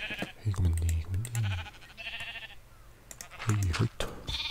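Sheep from the video game Minecraft, two short wavering bleats, one at the start and another near the end, heard under someone talking over a quiet game backdrop.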